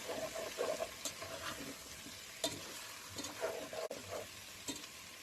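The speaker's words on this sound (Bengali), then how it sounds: "সব একসাথে নেড়ে নিব" Chicken pieces, cut potatoes and reddened onions fry in oil while being stirred, a close sizzle broken by scraping strokes and a few sharp utensil knocks, with no voices.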